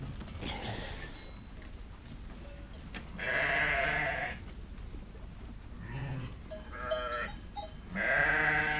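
A small flock of ewes, part of a traditionally raised herd of 600 sheep, bleats in several loud, close calls that overlap and come in bursts, with quieter rustling between them.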